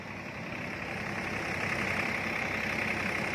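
A tractor engine runs steadily while powering a wheat thresher, a continuous loud mechanical drone with a rattling, grinding hum that swells slightly partway through, no voices.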